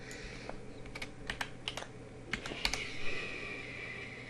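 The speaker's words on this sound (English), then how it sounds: "you get to watch me stumble through the typing here" Quiet, uneven keystrokes tap on a computer keyboard, with short clusters of clicks and hesitant pauses and a faint hum underneath.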